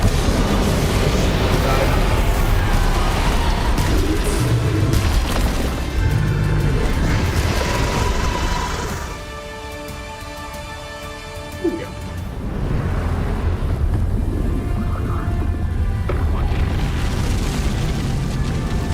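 Bombarda blasting spell detonating in Hogwarts Legacy, a heavy booming blast with crashing debris and a dense roar that briefly dips and then returns, without voices over it.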